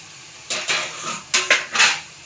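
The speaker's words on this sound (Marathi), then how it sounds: "आता याच्यावर ठेवते झाकून" Metal lid set down on a cooking pot of methi (fenugreek) bhaji with peanuts, chili and garlic: a few distinct clanks and scrapes, close, with no talk.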